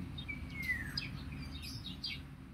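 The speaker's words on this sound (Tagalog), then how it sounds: "May mga ibon." Faint bird chirps and short whistled calls sound over a steady low outdoor rumble at a beach resort in Gubat, Sorsogon.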